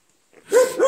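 A puppy gives a short, close bark or yip after a moment of silence, followed by a second brief yelp, on a walking route from Leon to Santiago in Spain.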